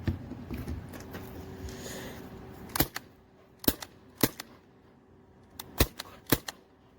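A Crosman Phantom P10KT CO2-powered semi-auto BB air pistol fires six sharp, close pops, irregularly spaced, with quiet handling noise in between.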